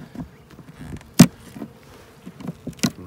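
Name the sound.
bees buzzing around a hive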